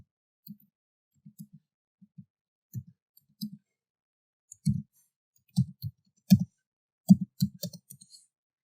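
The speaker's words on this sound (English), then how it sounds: "So let me type my email here." Keyboard keys tapped while typing an email address, a sparse run of soft, close clicks in small irregular clusters over near silence, getting busier toward the end.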